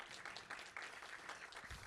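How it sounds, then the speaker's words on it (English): A theatre Q&A audience gives brief, faint applause, a soft patter of scattered claps heard at a distance with a few louder individual hits. "you can clap to that."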